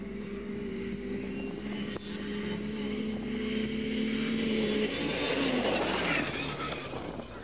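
BRP Maverick Turbo and FunCruiser FC2000 buggies race along a dirt road, a steady loud engine drone rising to a rougher roar near the end with gravel noise, no talking.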